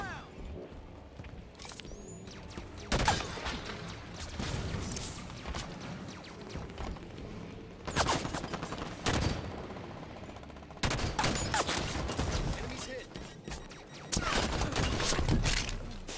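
Enemy gunfire in the Halo 5 Guardians Warzone mode, with repeated bursts of automatic fire and explosive blasts over steady game noise, and loud volleys at several points throughout.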